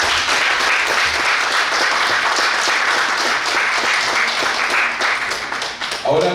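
Sustained audience applause at a student philosophy colloquium, a full, even wash of clapping from a room of people that fades slightly near the end, with a voice starting to speak as it trails off.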